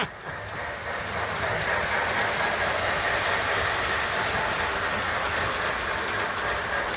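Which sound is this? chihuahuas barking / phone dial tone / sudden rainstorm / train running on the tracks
train running on the tracks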